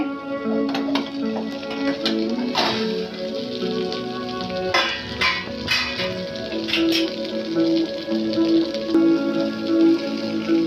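Mushi fish frying in a covered pan on a gas stove, a steady close crackle like light rain on a surface, with scattered louder pops and no talking.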